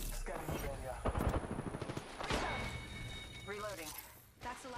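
Bursts of gunfire in an Apex Legends battle-royale firefight, a rapid run of shots around the middle followed by scattered single reports, with someone talking over the action.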